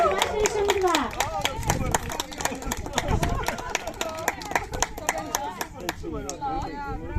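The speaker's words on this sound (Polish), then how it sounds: "Wielkie brawa!" Applause for the winners of a hobby horse show-jumping competition in Sopot, 2023: a crowd claps steadily and fairly close for several seconds, with chatter and children's voices running underneath.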